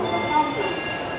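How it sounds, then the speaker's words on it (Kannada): Hampi Express train running noisily, a loud, steady rumble of carriages in motion with no clear pauses, heard from close by on board. "ಫುಲ್ಲು ಟ್ರೈನ್ ಸೌಂಡ್ ನೋಡಿ ಯಾವ ಥರ ಕೇಳಿಸ್ತಾ ಇದೆ, ಫುಲ್ ನಾಯ್ಸಿ ಟ್ರೈನ್ ಸೌಂಡ್ಸೆ"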